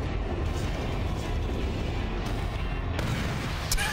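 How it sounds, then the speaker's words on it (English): Missiles exploding in the mech combat video game Armored Core 4, a dense, continuous roar of blasts and booms with a few sharper cracks, loud and unbroken. "So many missiles."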